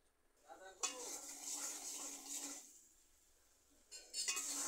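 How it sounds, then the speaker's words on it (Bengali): Spices stirred in hot oil in a pan with a metal utensil while cooking a flat bean (sim) dish, heard as close scraping and sizzling in two long stretches separated by a brief quiet pause. "এভাবে আমি মশলা লাড়িয়ে চাড়িয়ে কিছুক্ষণ কষিয়ে নেব।"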